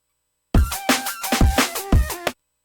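A looped drum pattern from an electronic music production session, with every snare hit played at identical velocity: about six evenly loud, punchy hits with low thumps underneath, repeating mechanically over two seconds with no dynamic variation.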